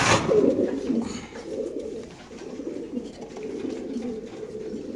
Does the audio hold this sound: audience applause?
no